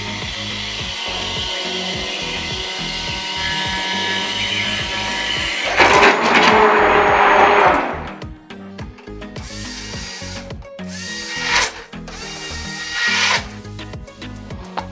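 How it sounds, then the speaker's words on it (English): Hand blender beating curd and water into buttermilk, a steady whirring motor grind that swells louder for a couple of seconds, then drops into shorter stop-start bursts with splashy rattles. "with the help of a hand blender, I am going to beat this."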